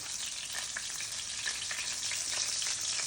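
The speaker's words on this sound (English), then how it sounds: "I'm just going to place these directly into the sauce" Meatballs go into a pot of sauce under a loud, constant sizzle with a light crackle all through, and no talk.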